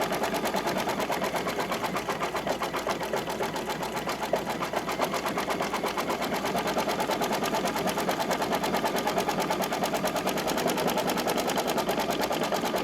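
An embroidery machine satin-stitches an appliqué over ribbon held under clear stabilizer on a tea towel, a fast, even mechanical chatter running continuously and close throughout.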